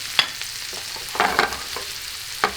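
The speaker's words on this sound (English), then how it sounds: "we leave it cook the shallot now together, but make sure to not burn the shallot" Shallot frying in a pan, a soft steady sizzle with a few sharp stirring scrapes and clicks, close and alone.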